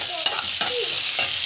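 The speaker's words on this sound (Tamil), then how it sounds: "கடலைப்பருப்பு போட்டுட்டு நல்லா வந்து வதக்கிட்டுருக்கோம்" Chana dal sautés in a pan with a close, constant sizzle broken by three sharp stirring scrapes of a spoon; no talking.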